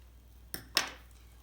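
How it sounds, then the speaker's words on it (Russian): Scissors snip the yarn tail after a knitted snood's stitches are bound off, two short crisp cuts close by, the second louder, in an otherwise quiet room. "Я закрыла все петли, обрезаю нить"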